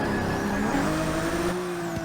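A Ferrari 365 GTB4 accelerates up the straight at Le Mans, its engine holding a high, steady whine that slowly rises in pitch, loud and close with no talk.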